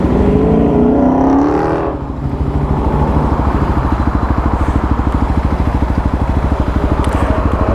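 A 2018 Kawasaki KLX351 EFI motorcycle revs on a dyno, a loud single-cylinder engine rising in pitch, dropping briefly, then holding a steady throbbing pulse close by with no talk.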